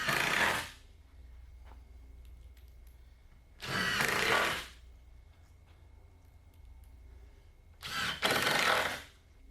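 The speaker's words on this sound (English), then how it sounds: "I threw some screws in from underneath, and then I was able to flip the tabletop back over, right side up, and finish screwing it off from the top side" Power drill driving screws into a wooden tabletop for a game table, three separate bursts of loud, broadband whirring, each lasting under a second, with quiet gaps between them.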